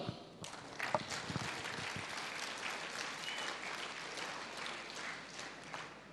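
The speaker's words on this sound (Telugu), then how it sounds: "ఒకసారి వీళ్ళకి క్లాప్స్ ఇద్దాం" Applause from a meeting audience fills the room steadily, a dense wash of many hands clapping that stays loud and continuous throughout, with a few sharper claps near the start.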